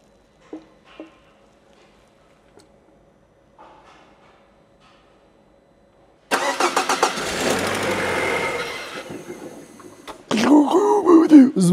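A Citroen car engine cranks and catches after a few faint clicks, then runs loudly and roughly at idle before revving up again near the end, with no talk over it.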